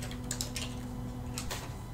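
Soft, quick keystrokes on a computer keyboard, a short burst of typing heard faintly over a constant low electrical hum.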